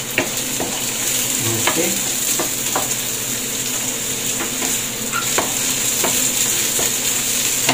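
Garlic and onion sizzle steadily in a pan while a utensil stirs and scrapes with intermittent clicks, close up, with brief speech over it.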